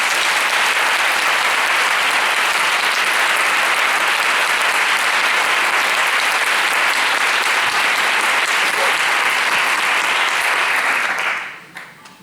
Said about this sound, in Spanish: me gustaría que les diéramos un gran aplauso